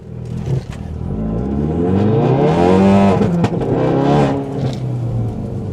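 A 2017 Ford Focus RS in sport mode launches hard off the line, its engine note climbing loudly through first gear with a rising, raspy growl and a brief shift dip, with no talking.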